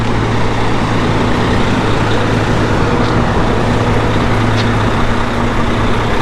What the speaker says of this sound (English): Nice yellow Peterbilt.